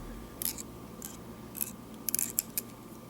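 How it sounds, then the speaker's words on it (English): Small scissors snip off excess fibers on a fly-tying setup, several crisp close cuts in quick succession, the last few bunched together, against a quiet room hum. "We can snip the excess free."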